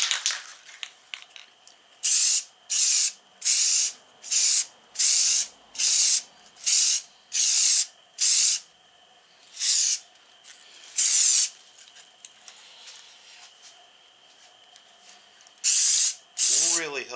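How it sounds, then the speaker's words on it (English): Clear coat sprayed from a can onto bocote wood knife handles with a fan running: about a dozen sharp, loud hissing bursts, each around half a second long, separated by pauses over a low, steady fan hum. "Not a good idea to try to spray clear coat with a fan going."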